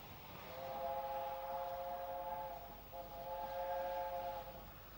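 A steam train whistle sounds twice, each a long steady multi-tone blast of a few seconds, the first slightly longer, heard at some distance over a soft rumbling background.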